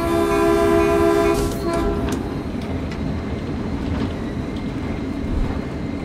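A train horn blares loud and sustained from the front cab, then fades out as the train rolls on with steady rumbling and clattering wheels over the rails.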